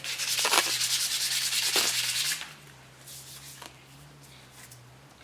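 Sandpaper rubs a deer antler in close, rapid scraping strokes, loud and rhythmic for a couple of seconds, then fading to softer, intermittent rubs.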